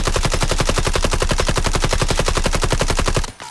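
Sustained automatic gunfire from a Delta Force video game firing range, loud and continuous rapid shots in an even rhythm for about three seconds, then cutting off abruptly with a brief tail.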